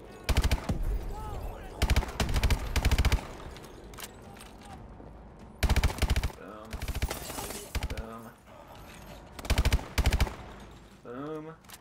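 Gunfire in Call of Duty: Advanced Warfare comes as several loud, sharp bursts of rapid automatic fire separated by brief lulls. Short voice fragments appear between the bursts.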